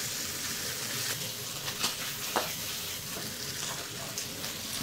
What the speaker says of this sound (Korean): 고기는 다 익었지만 여기서 좀 더 익혀줄 거예요. 노릇노릇하게 될 때까지.